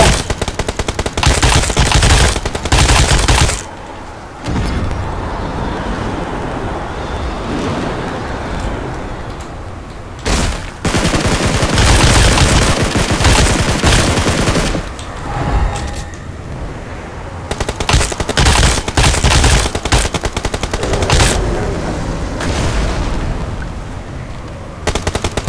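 Dense bursts of automatic gunfire dominate a PUBG Mobile firefight, loud and close, rattling in long sustained volleys broken by short gaps of quieter shots and distant echoes.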